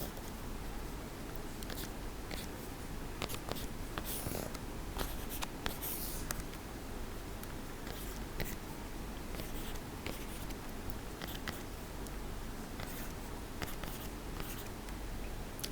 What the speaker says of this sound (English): I'll write the matrix one more time.